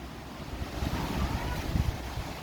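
Sea waves rolling in at a beach under a steady, blustery wind, making a continuous broad roar with gentle swells of surf and wind buffeting close to the microphone.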